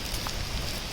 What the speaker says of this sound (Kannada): ಈಗ ನಮ್ಮ ಪರಿಸ್ಥಿತಿ ಸದ್ಯಕ್ಕೆ ಮಳೆ ಬರ್ತಾ ಇದೆ